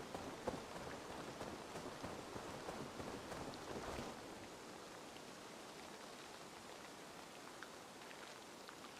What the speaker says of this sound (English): Pretty good rain sounds.